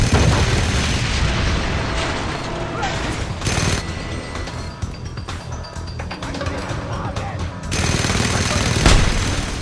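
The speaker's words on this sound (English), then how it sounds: "I'm trying to make up for the otherwise lack of explosions in this video" Explosions and gunfire in the video game Just Cause 2, with repeated loud booms and rapid bursts of shots, dense and continuous with sharp blasts near the end.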